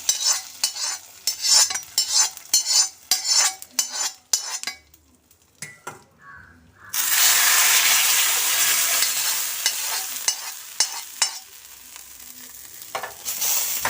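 Fried tempering is poured into a small onion sambar, giving a sudden loud, broad sizzle that holds steady and slowly fades, after a run of sharp stirring and clinking utensil taps on a pot.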